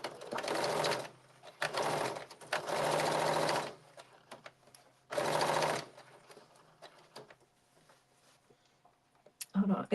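A domestic sewing machine stitching a seam on a blazer in several bursts of fast whirring, separated by pauses, with a person talking between the runs.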